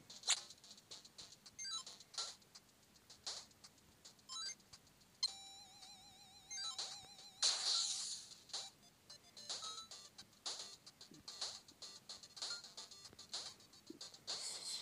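A short bright chime-like phone notification rings out over a quiet background of small clicks and idle game blips, the tone sounding clearly for about two seconds alongside a brief burst of noise.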